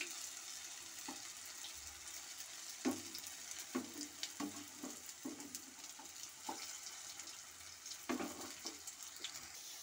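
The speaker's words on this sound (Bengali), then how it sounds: "আর এটা আমি উল্টে পাল্টে ভেজে নিচ্ছি।" Soybean pakoras fry in hot oil with a soft steady sizzle, while scattered clinks and scrapes come as the pieces are turned; faint and continuous throughout.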